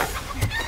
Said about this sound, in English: Turned you into a chicken.